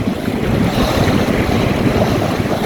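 A sailboat runs fast through strong wind gusts and bigger waves, with a steady loud rush of wind buffeting the microphone and water splashing against the hull throughout, close and continuous with no voices.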